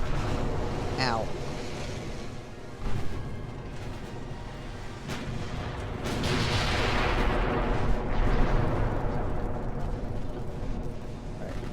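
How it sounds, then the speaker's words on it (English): Heavy naval gunfire from warships in the video game Ultimate Admiral: Dreadnoughts: booming cannon blasts roll over a constant sea-and-engine rumble, with a sharp whistle early on and loud impacts swelling past the midpoint, all without voices. "Yep, they're fucking shooting at me."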